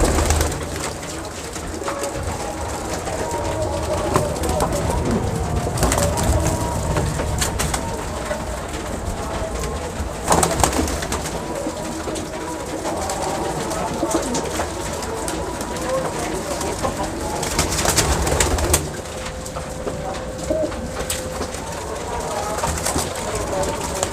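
Pigeons coo in low repeated phrases, with bird calls, scattered wing and handling noises, and occasional talk in the background over a steady ambient bed.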